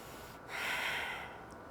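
A single slow breath, drawn and released during a yoga crescent lunge, swells as a soft airy hiss and fades away, faint and close, with no talking.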